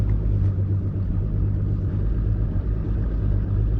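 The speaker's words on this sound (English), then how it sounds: "I just got it back on the big motor. And again, I just idle back through all this stuff." The big outboard motor on a bass boat idles on a lake, a steady low rumbling drone with a faint throb, close and fairly loud, unchanging throughout with no talking.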